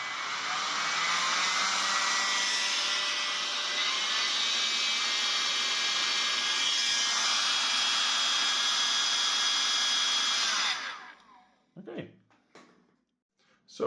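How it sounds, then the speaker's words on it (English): Small battery-powered Nilfisk handy vacuum cleaner motor under repair, run from a 20-volt supply, whirring loud and steady for about eleven seconds before cutting off, followed by a few faint clicks and handling noises. "The motor runs, but still the whole thing doesn't fire up when we switch on the vacuum cleaner."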